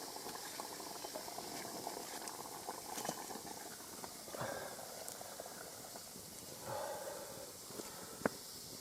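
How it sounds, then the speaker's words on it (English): Water bubbles and hisses steadily in a pot over a small fire of dead twigs and driftwood on a saltmarsh, faint and continuous, with occasional pops and crackles. "Bubbling away there."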